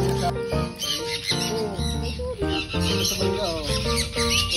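Pet birds chirp and call densely and continuously at close range, a layered mix of whistles, tweets and coos filling the space alone, with no talking.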